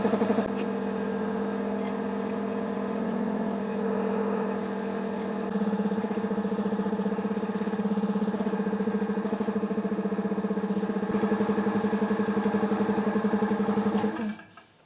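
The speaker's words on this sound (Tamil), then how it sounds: "இப்போ நம்ம கம்ப்ரஸரை வந்துட்டு பார்த்தீங்கன்னா தொடர்ந்து வந்து ஓட வைக்கலாம்." A restored air compressor runs continuously with a steady droning motor hum and rhythmic throb, then winds down abruptly near the end as the pressure switch cuts off at about 55 PSI.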